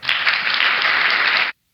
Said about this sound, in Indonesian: Applause tepuk tangan kayaknya.